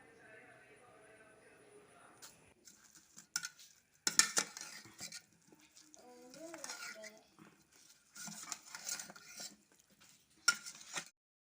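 Hog plum pickle is mixed with garlic in a Kerala kitchen, with scattered clinks and scrapes of a spoon against a vessel between pauses, while someone talks over much of it.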